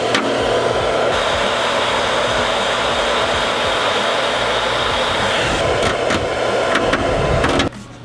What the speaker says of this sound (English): Any old hairdryer. Ours is the Baby Bliss Pro.